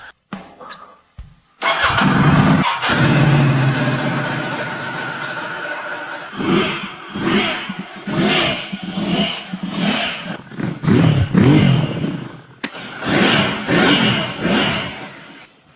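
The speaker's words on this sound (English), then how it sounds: "Sound of car starting." A restored Ducati motorcycle, pulled from an abandoned scrap yard, cranks and fires up, then revs loudly in repeated bursts, its engine note rising and falling close by with no talk over it.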